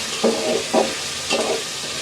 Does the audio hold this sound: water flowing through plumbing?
no